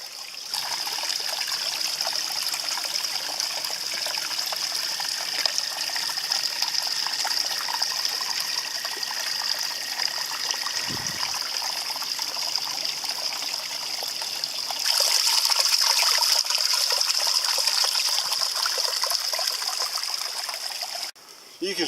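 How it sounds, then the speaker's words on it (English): Water trickles steadily while being filtered beside a mountain trail. The flow is close and continuous, and a brighter gush-like stretch in the latter half carries the sound almost to the end. "I'm filtering water before I trip back down the mountain."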